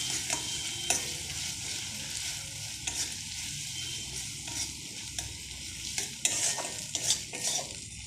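Ginger paste and spices frying and being stirred in a pan, a steady close sizzle with scraping spoon strokes throughout, no voices.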